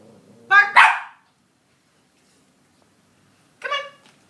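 A dog performing tricks barks on command, two quick, loud, close barks followed after a pause of silence by a single shorter bark.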